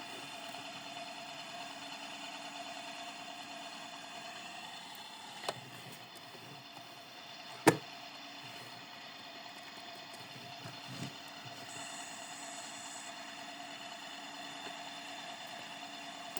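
A tractor's steady, low engine idles continuously with a faint mechanical hum, broken by a couple of sharp clicks or knocks along the way.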